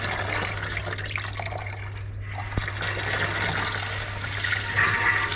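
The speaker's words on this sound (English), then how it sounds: "Oh, that's the air coming through. Aerated water." Air and aerated water rush through a live sealed heating system pipe that has just been cut into, a steady hissing, gurgling flow with a low hum underneath.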